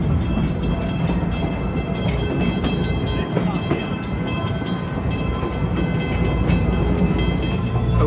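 Riding a park train at Busch Gardens Williamsburg: a steady rumble of railcars with rhythmic clacking of wheels over track joints, close and continuous, with faint voices in the background.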